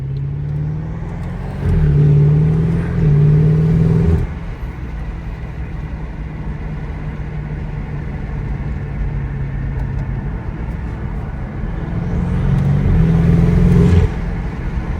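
A BMW 650i V8 engine fitted with downpipes idles with a deep rumble, then revs up twice in strong bursts near the start and end, loud and close.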